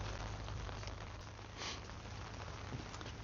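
Steady rain falling on garden plants, including eggplants, after days of rain and wind, a constant soft hiss with no voices.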